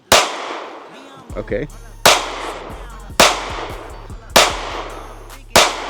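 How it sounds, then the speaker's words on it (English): A CSX pistol is fired during an accuracy test at about seven yards, with five sharp, loud, evenly spaced shots about a second apart, each trailing a brief echo. A voice speaks briefly between them. "7 yards ish, taking some shots, and let's see how we are."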